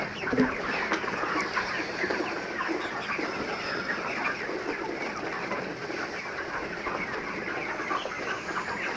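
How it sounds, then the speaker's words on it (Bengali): Many 31-day-old chickens on a poultry farm cluck together at close range, a thick, unbroken chorus of short calls that stays fairly even throughout. "এই হলো মুরগির বর্তমান অবস্থা।"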